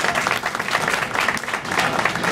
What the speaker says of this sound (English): one more round of applause for Lynn